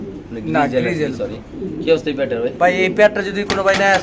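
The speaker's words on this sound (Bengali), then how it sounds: "এই দেখেন দর্শক কবুতরের ডাক" Fancy pigeons cooing in low, throaty bursts close by at a pigeon farm, mixed with someone talking over them throughout.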